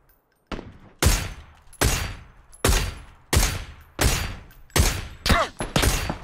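SLR sniper rifle fire in PUBG: seven or eight loud, sharp single shots in a steady rhythm about two-thirds of a second apart, each with a booming tail, after a brief quiet start and with no talk.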